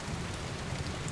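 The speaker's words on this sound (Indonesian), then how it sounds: "Hujan belum juga reda." Steady rain falls near a roadside shelter by rice paddies, a dense, even hiss of drops pattering on surfaces with no voices.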